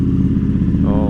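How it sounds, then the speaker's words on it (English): A 2020 Ducati Streetfighter V4 S engine catches and runs, a loud, close, deep rhythmic V4 rumble filling the short stretch, with a sharper rev rising near the end. "okay, let's start the engine."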